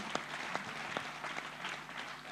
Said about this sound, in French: Je vous prie de l'applaudir.